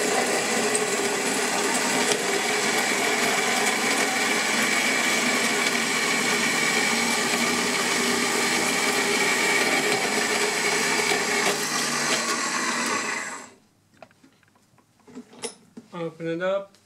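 A power tool cuts steadily and loudly for about thirteen seconds while making a cutaway, then stops abruptly, leaving quiet handling sounds and brief bursts of talk.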